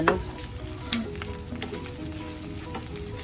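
Egg fried rice sizzles and crackles steadily in a pan as it is stirred, with a few louder scrapes and clicks of the utensil, close and continuous, no talking.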